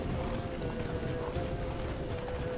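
A horse gallops in The Witcher 3, its steady clip-clop hoofbeats running continuously under dense game ambience and music.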